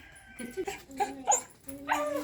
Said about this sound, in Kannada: ಒಳ್ಳೆ ನಾಯಿ ನಮ್ಮದು